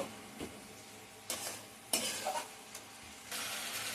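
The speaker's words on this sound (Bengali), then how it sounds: "এটাকে ভালো করে আমি এবারে কষে নেব" Masala for khichuri being sautéed and stirred in a pan over low heat with a little water, a soft steady sizzle broken by intermittent scraping strokes of a spoon against the pan.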